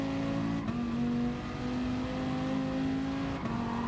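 A Dodge Viper's engine drones steadily at high revs around the Nordschleife in the racing game GT Sport, holding a sustained tone with two brief dips as gears shift.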